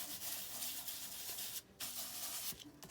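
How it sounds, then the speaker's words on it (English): Steady dry rubbing as a burnishing tool is worked over an embossed glazed paper card, continuous scraping strokes with two short pauses, close and moderately quiet, with no talk. "Now burnish it"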